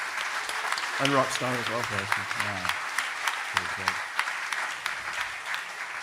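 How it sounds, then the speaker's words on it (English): Conference audience applause for the speakers at Nostrica, an open-source event, a fairly steady crowd clapping that continues beneath someone speaking briefly over it. "Can we get a round of applause for Ben and Tia Jeff?"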